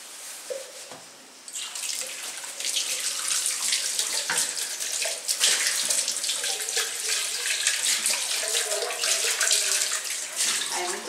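Water runs steadily from a tap for washing things at a countryside house, a continuous close splashing hiss that starts softer and then grows fuller, with no talk over it.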